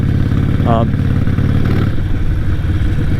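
A Harley-Davidson bagger motorcycle engine idles loudly and close, a steady low rumbling throb that runs the whole time, with a brief voice-like burst near the start.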